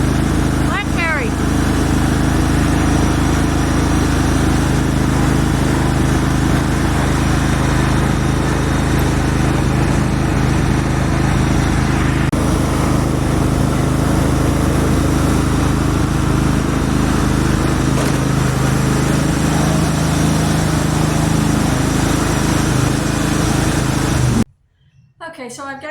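Ride-on lawn mower engine running steadily while mowing a homestead field, a loud continuous drone close by with little change over time.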